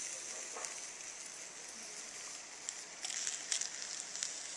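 Soft continuous sizzling from hookah coals set on a funnel bowl, broken by a few sharper crackles and pops toward the end, close and low in level.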